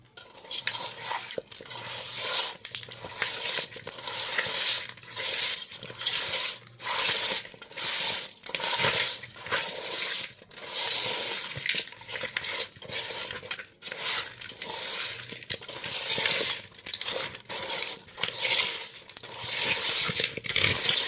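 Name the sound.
stirring chili, turmeric, tomato, onion into fish pieces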